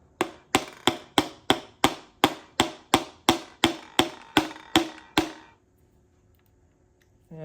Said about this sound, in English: Now I'm gonna use my brass hammer, but I'm gonna use the wooden end of it.